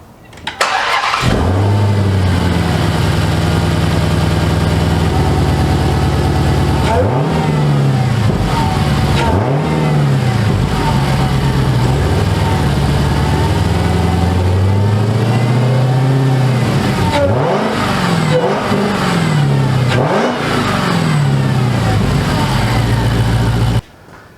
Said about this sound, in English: let's at least see if we can hear the supercharger as it is right now